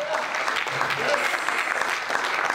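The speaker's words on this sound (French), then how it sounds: "Les gens vont s'acclamer." Church congregation applauding and cheering in a dense, continuous wash of clapping, with a voice carrying over the top.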